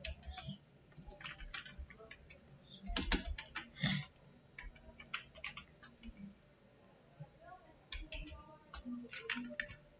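Quick, irregular clicks of a computer keyboard being typed on, steady and fairly close, continuing for the whole stretch with short pauses between bursts.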